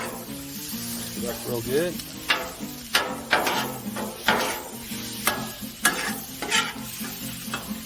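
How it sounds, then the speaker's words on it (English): Garlic sizzles steadily on a hot Blackstone griddle while a metal spatula clicks and scrapes in repeated sharp taps, with someone speaking briefly. "I also want to get my garlic in there right now, so that it can soften a little bit before we add the shrimp."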